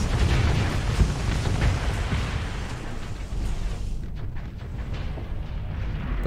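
Starsector space combat, with a dense, loud rumble of missile fire and explosions rolling on continuously before easing into a quieter roar near the end; no talking.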